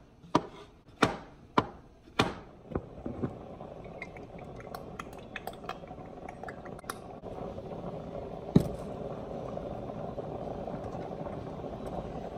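Knife chopping through potatoes on a cutting board, a run of five sharp, evenly spaced cuts at the start, then lighter scattered taps and one more distinct chop later, over a steady kitchen background.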